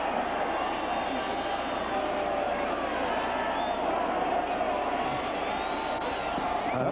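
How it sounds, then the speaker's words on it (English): A stadium crowd at a 1984 NFL game between the Cowboys and the Dolphins roars steadily as fans rise to their feet, a dense, sustained wash of cheering that never lets up. "Crowd getting into it. They're on their feet."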